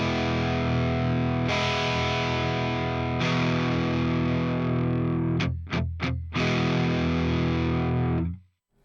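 An electric guitar runs through a Maxon OD808 overdrive pedal, producing a loud, heavily overdriven sustained chord that is struck again twice, chopped by a few quick muted stabs, then rings out and cuts off.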